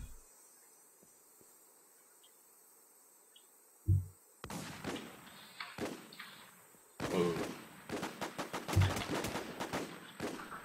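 Gunfire erupts in The WarZ during a pharmacy rush, with a single sharp shot followed by bursts of rapid shots and scattered cracks over a quiet, insect-like background hum.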